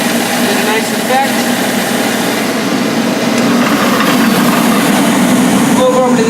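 Sanding machine with a downward-rotating abrasive running continuously, a loud steady whirring drone with a dense hiss throughout, and a voice talking underneath.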